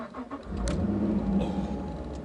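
Loud V8 engine of a Walkinshaw Performance VXR8 with its noisy exhaust mode switched on, a steady low rumble that swells after the first half second and holds, heard from inside the moving car.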